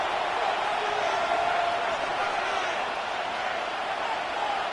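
Roaring stadium crowd noise from the Madden 26 American football video game, a steady loud wash of cheering that fills the whole stretch without letup or clear breaks.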